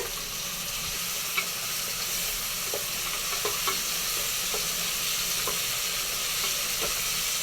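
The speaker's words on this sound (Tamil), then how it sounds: "நல்லா தக்காளியை மசி வச்சுக்குவோம் கொஞ்ச நேரம் அப்படியே அடுப்பில் வேகட்டும்" Tomatoes sizzle steadily in hot oil in a pan on the stove while being mashed, a constant close frying hiss broken by soft occasional taps and squelches of the utensil.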